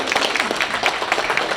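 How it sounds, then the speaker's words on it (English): Applause rises from the audience at a Central Lakes Republicans meeting, steady dense clapping filling the room throughout, fairly loud and close, with no speech over it. "Give him a round of applause."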